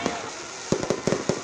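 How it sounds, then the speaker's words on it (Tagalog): A New Year fireworks display by the beach on Boracay: several sharp, distant pops and crackles land in quick succession over a steady wash of crowd and ambient noise. "Worth it ang paghihintay dahil pambihira ang fireworks display by the beach"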